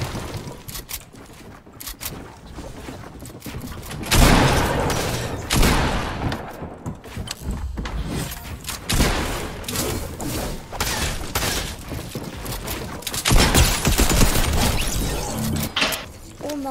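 Video game gunfire in an arena match rattles in dense, continuous bursts of shots, loud and busy, with clanking mechanical game effects mixed in throughout.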